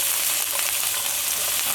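Diced onion, pepper and garlic fry in olive oil in a pan, a steady close hiss and crackle of sizzling with no talk.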